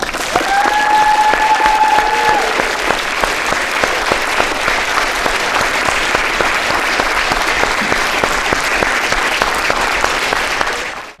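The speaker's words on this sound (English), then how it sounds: "Please join me in a round of applause." An audience applauds steadily after new recruits take the military oath of enlistment at a school ceremony, a dense, sustained wash of clapping that holds for about eleven seconds before cutting off.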